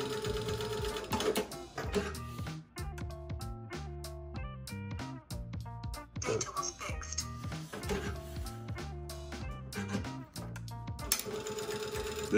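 A Juki DDL 8000A industrial sewing machine stitching in rapid bursts of dense mechanical chatter with brief pauses between runs, while a person talks over it.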